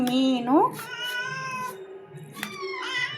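Cats meow repeatedly nearby, several drawn-out tonal cries with pitch bends, some overlapping, with quieter gaps between calls and no other sounds prominent.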